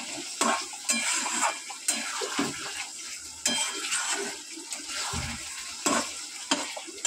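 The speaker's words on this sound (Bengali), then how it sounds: "দেখো বন্ধু, ভালো করে কিন্তু কষাতে হবে, কষানোর ওপরেই কিন্তু এটা সেদ্ধ হবে।" Curry masala sautéing in a wok, bursts of sizzling and scraping as a utensil stirs, with intermittent metallic clinks against the pan at an uneven rhythm.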